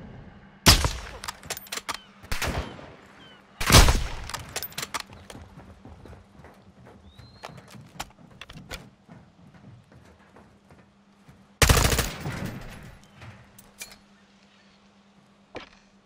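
Gunfire in the video game Call of Duty: Modern Warfare II, with a few loud, sharp shot bursts spaced several seconds apart over a low steady hum and scattered lighter clicks.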